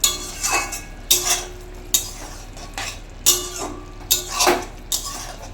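Cooked drumstick posto, drumsticks in poppy seed paste, stirred in a pan: a spoon scrapes the pan in six or seven separate bursts with short pauses between them, and no one speaks.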